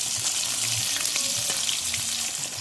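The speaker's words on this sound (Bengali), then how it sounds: "তো মাছ ভাজা হয়ে গেছে" Fresh rohu fish frying in a pan, a loud, crackling sizzle that runs on continuously with occasional spatter pops and faint clinks of cookware.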